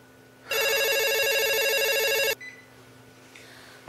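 A telephone rings in one loud, sustained electronic trill lasting about two seconds, close and alone against a faint background hum, then stops abruptly.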